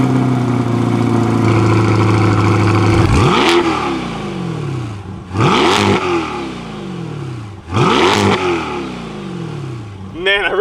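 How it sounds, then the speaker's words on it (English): A 2021 C8 Corvette Z51 V8 sports car with dual performance exhaust idles, then blips the throttle in three sharp revs that rise and fall back to a steady rumble, loud and close with no talking. "I really feel like that Z51 Performance exhaust complements that V8."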